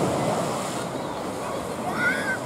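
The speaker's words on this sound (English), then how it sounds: "We have the beach. Plenty of people on it, plenty of people in the water as well." Surf washes steadily onto the beach at Hornsea, East Yorkshire, a broad, continuous rushing wash with wind buffeting the microphone and faint distant voices of beachgoers.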